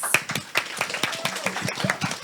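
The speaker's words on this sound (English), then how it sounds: "Please give them a round of applause." A small panel-discussion audience gives a light, sparse round of applause, individual claps clearly separated rather than a dense roar, with faint voices underneath.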